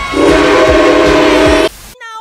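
Steam whistle of Boston & Maine locomotive #3713, a loud, sustained harmonic blast lasting close to two seconds with engine chuffs beneath it, breaking off abruptly; a higher, thinner tone follows briefly.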